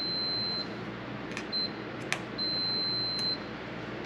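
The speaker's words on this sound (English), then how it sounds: "I hope you can hear the beeps" A handheld electrical tester sounds a series of thin, steady electronic beeps while checking vehicle lighting wiring, several tones of varying length separated by short gaps over a faint background hiss, with a few soft clicks.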